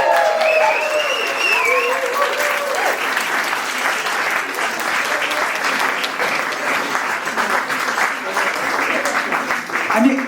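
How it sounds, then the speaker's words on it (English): Birthday party crowd of a running club applauding its volunteers, a dense sustained wash of clapping across the whole stretch, with voices and chatter mixed in underneath. "So if you just give a round of applause."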